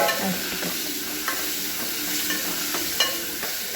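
Chopped tomatoes frying and being stirred in a pan, a steady broadband sizzle with soft scraping strokes of the spoon recurring every second or so, close and alone.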